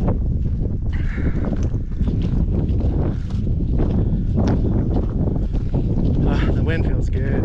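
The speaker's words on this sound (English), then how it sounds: "wind feels good" Wind gusting over a mountain hiking trail among small trees high above a valley in Mt Rainier National Park, a steady loud rush buffeting the microphone with rustling and footsteps, with someone talking now and then.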